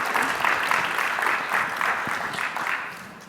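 An audience applauds warmly to welcome two speakers onto a conference stage, a dense steady clapping from a sizeable crowd that tapers slightly toward the end.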